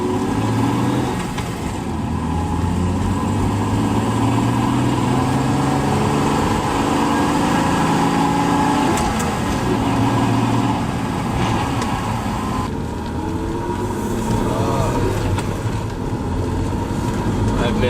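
A BMW E36 with a manual transmission and short shift kit drives along, its engine droning loud and close with rising and falling pitch through the gears, while people talk over it.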